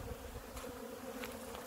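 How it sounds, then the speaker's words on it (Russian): Honeybees from two colonies pour out of an opened lower hive entrance on an early March spring cleansing flight, a dense, steady buzzing hum with no voices. "Открыл я нижние литки для того, чтобы пчела просто пошла."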